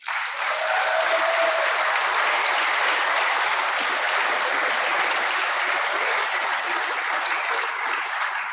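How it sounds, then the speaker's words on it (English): A conference audience at a cryptography rump session claps steadily to vote, a dense, even wash of applause filling the room without a break for the whole stretch. "So we do this by clapping."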